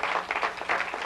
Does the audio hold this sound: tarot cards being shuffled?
no